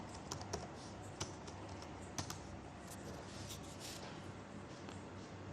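Keystrokes on a computer keyboard as an email address and password are typed into a blog login page, a quiet, steady run of light clicks with a few sharper taps and no talking.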